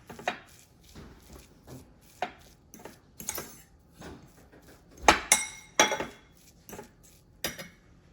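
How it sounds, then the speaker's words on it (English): Cheese for high-protein pancakes is mashed in a bowl with a utensil, giving repeated uneven knocks and scrapes with occasional bright clinks against the dish, close and with no talk. "First, smash the cheese or grind in a food processor for a smoother texture."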